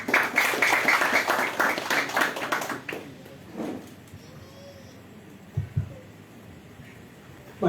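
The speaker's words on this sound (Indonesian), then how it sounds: "kita sambut dengan tepuk tangan yang meriah, membakar semangat kita di malam hari ini" Audience applause at an evening Heroes' Day national dialogue event, dense clapping for about three seconds that quickly fades to scattered claps and room quiet.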